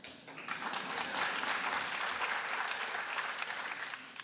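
Audience applause at a talk, a dense burst of clapping from a crowd that swells quickly and holds steady for a few seconds.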